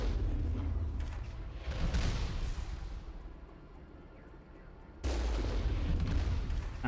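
Enemy gunfire in the Mass Effect 1 video game, Geth combat: a continuous barrage of booming shots and blasts that dips midway, then surges loud again, with no talk.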